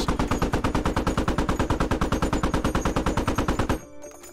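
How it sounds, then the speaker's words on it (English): Machine gun on an Australian armored vehicle in the video game Squad, a loud, steady burst of rapid evenly spaced shots for nearly four seconds, then cutting off into near silence. "From a cold start, you can fire 61 rounds till the gun overheats."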